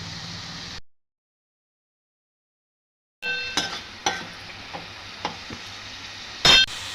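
Chicken curry masala with green chilli, ginger paste and fresh mint sizzles in a pan while a spoon stirs and scrapes, giving a few sharp metallic knocks after a brief stretch of silence.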